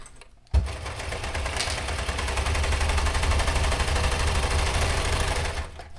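A serger sewing machine chain-stitches through fabric in one loud, rapid, even mechanical run. It starts abruptly after a brief quiet moment and slows near the end, with no talk over it.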